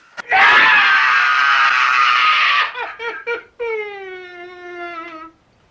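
A loud, sustained scream from the horror film Maniac, rising sharply and holding for about two seconds, then breaking into short gasping sobs and a long descending wail that fades out.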